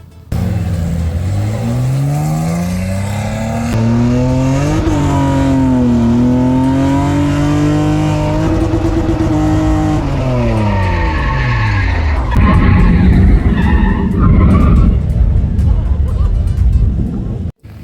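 A drift car revs hard and slides, the engine note climbing and falling in long sweeps before tires squeal and skid loudly near the end, close and continuous, with voices talking over it.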